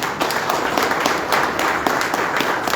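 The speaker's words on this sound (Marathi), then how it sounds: "श्रोत्यांनी टाळ्या वाजवून अनुमती द्यावी" An audience at a Marathi lecture claps together, a close, continuous patter of many hands with faint rhythmic pulses and no voices over it.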